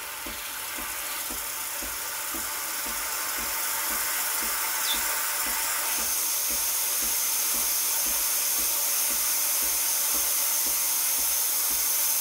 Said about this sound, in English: But yeah, here's the steam.